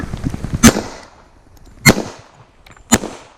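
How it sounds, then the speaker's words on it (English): Three sharp, loud gunshots from a 1911 pistol fired at a target around 7 to 10 yards away, spaced about a second apart, each with a quick decaying tail. "I'm going to put a few more rounds down here and remove or finish up this last mag here"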